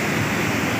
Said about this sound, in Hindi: बड़े बड़ वाटरफॉल को देखिए